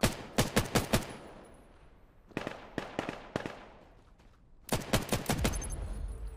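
Bursts of rapid gunfire in quick volleys, separated by short pauses, sharp and close with a game-like punch, from the VR shooter video game Vail.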